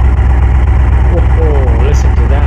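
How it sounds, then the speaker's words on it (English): A muscle car engine in the Automation game runs at a loud, steady idle with a deep pulsing low rumble, a voice talking briefly over it. "let's fire up this amazing engine here"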